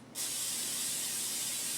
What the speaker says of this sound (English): Always spray your rice pan.